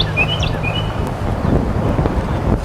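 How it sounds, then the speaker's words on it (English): Steady wind gusting outdoors across a disc golf course, rumbling into the microphone throughout, with faint birds chirping in the background. "Wind is picking up a little bit as well."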